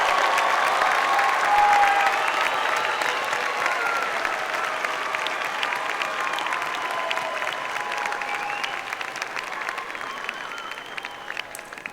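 At a university commencement ceremony, a large crowd gives the class of 2024 a final round of applause. The dense, sustained clapping fills the hall evenly for about twelve seconds and tapers slightly toward the end.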